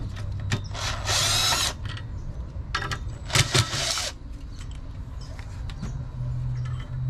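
A turbo wastegate hat comes off a GTX3582R turbocharger bolted to a bench, with a few loud, close bursts of tool and metal noise separated by quieter gaps.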